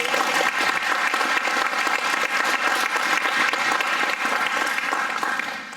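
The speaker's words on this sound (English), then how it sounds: "Let's give Bradley another round of applause." A lecture audience applauds a speaker with loud, dense clapping that stays full and constant throughout before starting to thin at the very end, with no voices over it.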